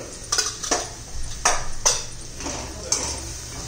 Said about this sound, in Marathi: चांगला असं परतून घेऊया, मसाले पण शिजून घ्यायचे चांगले